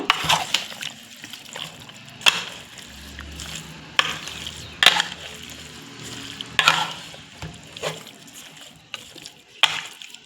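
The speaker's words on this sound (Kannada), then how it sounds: "ಒಂದು ಸ್ವಲ್ಪ ನೀರನ್ನು ಸೇರಿಸ್ಕೊಂಡು ನಾವು ಚೆನ್ನಾಗಿ ಮಿಕ್ಸ್ ಮಾಡ್ಕೊಳ್ಳೋಣ" Pork for pork fry is mixed in a pan after a little water is added, giving wet scraping and stirring strokes with soft sizzling and liquid squelches at an irregular rhythm, close and moderately loud.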